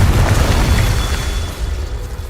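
A Confringo spell explosion in the Hogwarts Legacy video game, a loud rumbling blast that fades over a couple of seconds.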